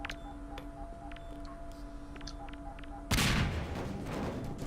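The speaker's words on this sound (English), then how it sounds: "That's a good explosion." A sudden loud explosion bursts out in the video game Half-Life 2 and leaves a sustained roaring rumble. Before it, the game ambience is quiet, with faint ticks and a low hum.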